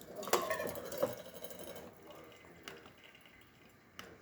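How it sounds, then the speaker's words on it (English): A DeLonghi espresso machine with a pressure problem dispenses hot water in a soft trickling stream, with a few sharp clicks and knocks early on, then quieter running water. "Hot water on this machine, as you can see, it's a nice steady stream too"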